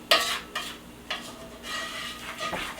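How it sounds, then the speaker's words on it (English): A utensil stirs shrimp scampi ingredients with parsley in a pan on the stove, making several close scraping strokes against the metal in a loose rhythm, with a faint sizzle underneath. "go ahead and mix it"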